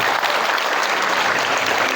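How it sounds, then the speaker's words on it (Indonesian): A seminar audience at an Islamic institute in Metro, Lampung claps loudly and continuously, a close, dense roar of many hands without pause. "Tepuk tangan untuk kita semuanya hari ini."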